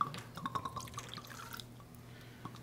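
Liquid poured into a glass during a seated conversation, a quick series of soft drips and splashes over about a second, then trailing off into quiet room tone.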